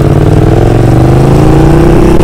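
A Yamaha MT-07 motorcycle engine revs up, its pitch climbing steadily over a couple of seconds, loud and close with a throaty, continuous growl.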